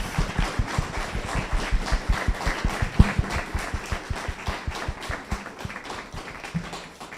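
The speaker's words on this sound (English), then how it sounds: "Let's round of applause." Audience clapping after an author event at a bookstore, distinct individual claps in a fairly quick rhythm that gradually thins and fades toward the end, with no talking over it.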